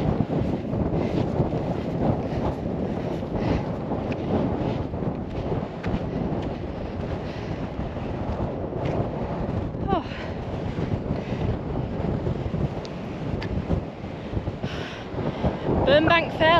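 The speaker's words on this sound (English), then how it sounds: "Windy." Strong wind buffets the microphone on an open fell, a continuous low roaring rumble with gusty swells that stays loud throughout, with a brief voice near the end.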